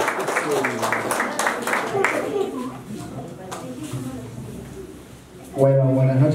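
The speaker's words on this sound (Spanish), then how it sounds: "¡Los aplausos para Hensel!" Applause from guests at a 50th birthday party, a dense patter of clapping for the first couple of seconds, mixed with voices and fading under continued talk.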